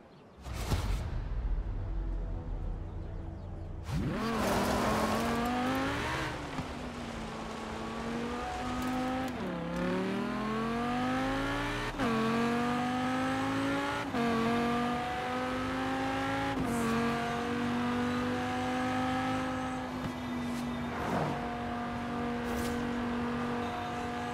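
Stunt car driven hard in the Forza Horizon 4 racing game, its engine loud and close, revving and rising through gears with shifting pitch, a sharp start after a short lull and brief tire noise, with no voices.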